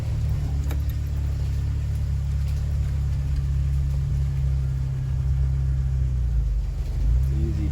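An RC crawler Jeep drives along a slippery outdoor trail, its small electric motor giving a steady close whine and rumble with slight changes in pitch as it creeps forward.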